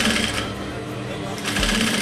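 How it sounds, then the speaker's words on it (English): A sewing machine runs steadily while stitching a blouse seam close to an old seam, its motor humming and needle chattering up close, with a brief thump near the end. "I sew all the way."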